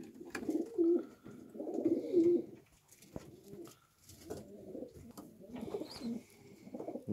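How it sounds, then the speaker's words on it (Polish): Homing pigeons coo softly in repeated low, throaty bursts inside a loft, several birds close by in a quiet enclosed space, with faint rustling between calls. "46 gołąbków. Gołębnik się zapełnia."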